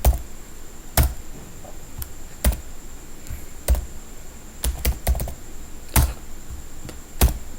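Keystrokes on a computer keyboard, typed in short irregular bursts of sharp clicks with pauses between, close and clear over a faint steady hiss, no voices.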